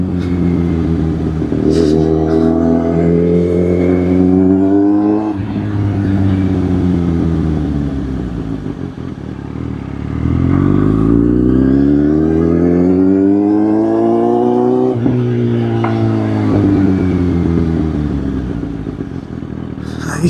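Vehicle engine revving repeatedly in a parking spot after a ride, loud and close, with rising and falling pitch sweeps across several long revs and no talking.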